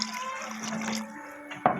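Water is poured into a hot pan of simmering chicken giblets and eggs, giving a short bubbling, sizzling gush that ends in a sharp splash.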